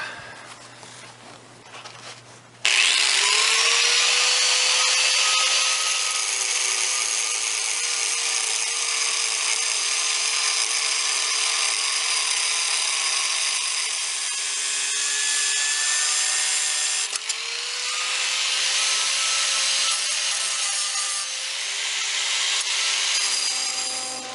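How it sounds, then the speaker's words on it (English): A power tool cuts through an old metal piece of a Weber grill grease pan holding bracket, a loud continuous whine that runs steadily for over twenty seconds with a brief dip partway through. "So I'm going to cut this old piece off about here and then make a lap joint."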